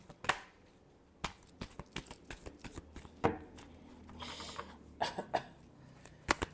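A deck of tarot cards is shuffled by hand in short, crisp riffling bursts separated by brief pauses. The shuffling is quiet and close, with no one talking.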